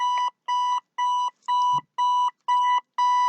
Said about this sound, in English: let's set our alarm.